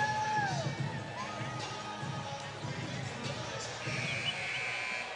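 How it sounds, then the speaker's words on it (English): Crowd murmur and scattered shouts fill a college basketball arena on a chilly Friday night as College of Charleston hosts Coastal Carolina, a steady moderate din with a few whistle-like tones and voices mixed in. "Great crowd, Danny, for a Friday night."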